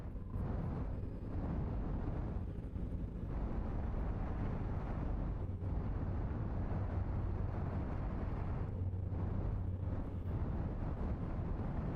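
Volcanic eruptions rumble in the video game Outer Wilds, a deep, low roar that stays dense and constant with surges and bursts layered over the top.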